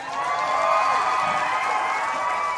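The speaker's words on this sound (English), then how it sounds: "another round of applause to all the dancers who went out here and made me tired" A dense, steady wash of crowd applause and cheering fills a hall for the dancers at the IFC 2022 fursuit dance competition, loud and continuous throughout.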